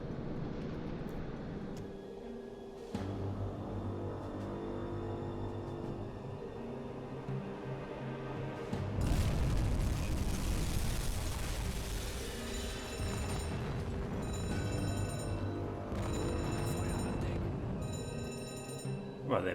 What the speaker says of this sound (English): We've got 2 hits with the torpedoes. We did get an explosion as well.